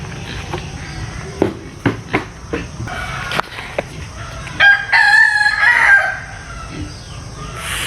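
A rooster crows loudly and nearby in one drawn-out call, preceded by a few sharp clucks and knocks over faint background noise.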